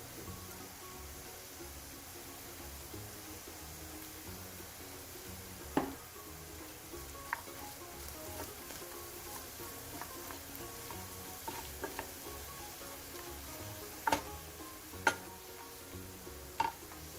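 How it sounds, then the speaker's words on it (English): A mushroom and cheese omelette mixture stir frying in a pan gives a steady close sizzle throughout, with a few sharp clicks of a utensil against the pan. "Stir fry for another 1 to 2 minutes."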